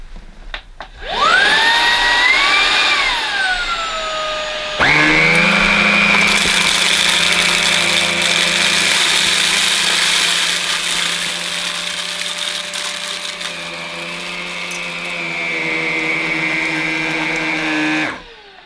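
A Halo Capsule bagged cordless vacuum cleaner running on its minimum setting, a close, steady motor whine with a high pitch that rises and then falls. Partway through it drops into a continuous loud suction roar that holds for over ten seconds before cutting off.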